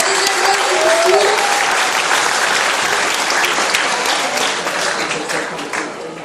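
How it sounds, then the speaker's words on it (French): A loud audience applauds for the second-place finalist of a knowledge contest final at a school, the dense clapping sustained throughout with crowd noise and a faint voice underneath, tapering slightly at the end. "On applaudit également le second candidat qui récupère la deuxième place du concours."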